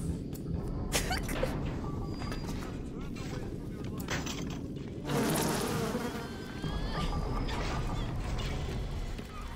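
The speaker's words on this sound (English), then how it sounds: "That was the perfect demonstration of the bees imaginable." A swarm of bees buzzes in BioShock Remastered, a dense insect drone around bursts of game noise, with a louder stretch midway.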